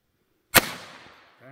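A .32 caliber cap-primed belt buckle pistol fires once, a sharp close crack that quickly decays into a short ringing tail. A faint voice begins right at the end.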